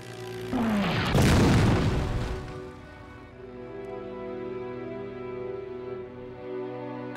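A deep explosion booms out and rolls away into a long fading rumble, followed by a sustained low orchestral drone beneath it.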